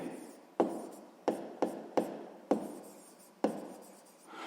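Pen writing by hand on paper during a 6th-grade maths exercise, heard as six or seven short scratchy strokes with quick onsets and fading tails, close and fairly quiet, with no talk.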